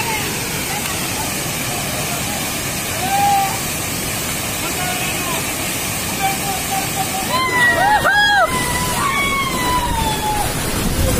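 Panchghagh waterfall in a forest, a constant rushing roar of falling water heard at moderate loudness, with people talking and chattering over it and a burst of handling noise toward the end.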